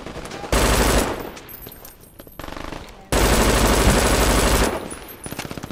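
Heavy automatic gunfire from a turret in the video game Brink, loud and close, in two long sustained bursts separated by a short lull, with a rattling tail at the end.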